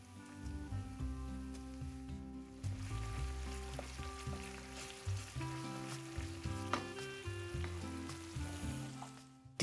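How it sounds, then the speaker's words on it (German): Tomato and pepper paste sizzles briefly in hot oil, a soft close crackle and hiss with occasional stirring clicks, quiet and alone without voices. "Die entwickeln ihr Aroma am besten, wenn man sie kurz in dem Öl mit andünstet."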